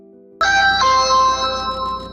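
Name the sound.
phone ringtone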